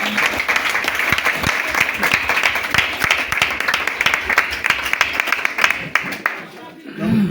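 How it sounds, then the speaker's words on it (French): A church congregation applauds and cheers in praise, a thick run of clapping with voices mixed in, strong and sustained before fading briefly near the end. "Je voudrais qu'on offre une acclamation au Seigneur."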